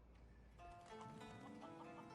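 Chickens cluck in Sleeping Dogs, a short run of soft bird calls over steady game ambience and low music, fairly quiet and mid-distance.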